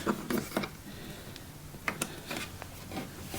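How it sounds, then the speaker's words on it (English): An Allen key tightening screws on a wooden table-saw crosscut sled, giving a few close, light metallic clicks and scrapes in short irregular bursts, quiet against faint background noise. "what you need is your little Allen key. And all you want to do is tighten these"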